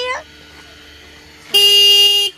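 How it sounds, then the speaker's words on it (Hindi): A car horn gives one loud, sustained honk up close, lasting under a second after a quiet stretch, with a brief voice just before it. "बंद हॉर्न बजा, हॉर्न आया"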